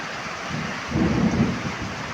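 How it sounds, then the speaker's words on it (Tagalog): Steady heavy rain roars close by during flooding, swelling louder midway through, with no voices. "Lakas ng ulan."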